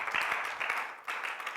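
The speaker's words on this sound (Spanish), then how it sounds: "Dele un aplauso al Señor." Congregation applauding during a Spanish-language church service, a short burst of steady clapping that dips briefly and resumes, moderately loud and fairly close.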